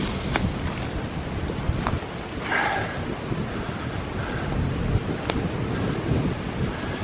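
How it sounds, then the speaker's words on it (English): Cold wind gusting steadily near the source of a river beside a long barrow, a continuous broadband rush with buffeting on the microphone and a few faint brief clicks, no voices. "there is a cold wind. There is definitely a cold wind"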